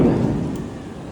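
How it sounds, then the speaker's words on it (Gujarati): Heavy rain pours down in a steady, dense wash, close and fairly loud throughout the short stretch, with no voices over it. "ફૂલ વરસાદ આવે છે, મોજે મોજ"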